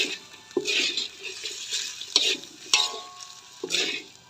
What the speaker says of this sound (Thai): เครื่องปรุงที่เรามีที่เราเตรียมไว้นะคะ น้ำปลา นะคะ คนให้เข้ากัน